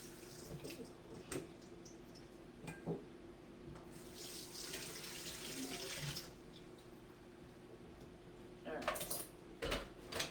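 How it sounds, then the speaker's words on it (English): Tap water runs steadily over something being rinsed in a home kitchen sink during fruit syrup making, a continuous broadband splash with a few light clinks of dishes near the end. "let me just rinse this off"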